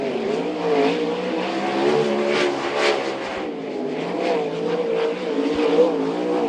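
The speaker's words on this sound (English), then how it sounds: "Hodgie out here now. Darryl Hodges in the Q5 car" A sprint car roars around Archerfield Speedway during time trials for the Capalaba Wreckers Cup, a steady loud engine drone that rises and falls as it laps, with no commentary over it.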